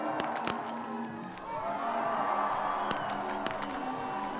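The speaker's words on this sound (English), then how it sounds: "Kazakhstan ready to cheer their athlete on." A Kazakh crowd cheers a biathlete at a men's 15 km mass start race in Almaty, with steady roaring and whooping throughout and sharp clapping or shouts cutting through several times.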